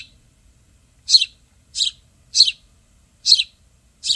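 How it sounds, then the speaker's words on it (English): Five short, bright horned lark calls repeat at steady intervals about once every second, clear and fairly close over a quiet low background hum. "So this is our horned lark again."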